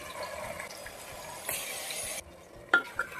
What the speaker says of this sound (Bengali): আগে থেকে ম্যারিনেট করা মাংসটা তেলের মধ্যে দিয়ে কষিয়ে নেব